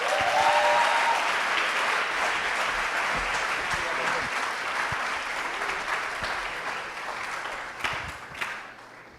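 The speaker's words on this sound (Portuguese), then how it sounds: "eu quero convidar você a dar uma salva de palmas por Ivan Roman" A church audience gives a pastor a round of applause: dense, steady clapping from many hands that carries on throughout and tapers slightly toward the end.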